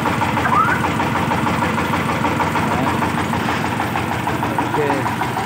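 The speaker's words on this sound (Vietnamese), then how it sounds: "Đề này là bên mình làm nâng cấp thêm nha. Đề rất là mạnh nha mọi người." A car engine fitted with an upgraded electric starter runs at a steady, loud idle, a continuous low rumble that stays constant throughout, with voices talking over it.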